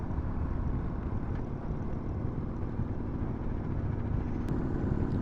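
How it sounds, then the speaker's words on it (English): A 2016 Victory Cross Country motorcycle engine running loud, a steady low rumble with constant wind roar, unbroken for the whole stretch. "this bike is loud"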